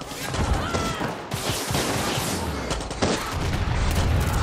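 Rapid, continuous gunfire from a fast-firing gun in the video game Far Cry 6 crackles loudly in dense bursts, with explosive booms mixed into the chaotic battle.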